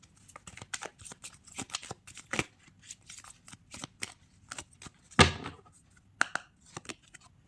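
A deck of tarot cards is shuffled by hand in quick, crisp riffles and flicks, with close, irregular bursts of papery snapping and one louder ruffle midway.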